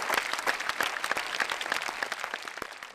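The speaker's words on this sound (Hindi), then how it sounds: "मैं स्वयं आपके लिए तालियां बजाना चाहता हूँ।" A crowd applauds steadily, a dense patter of many hands clapping throughout.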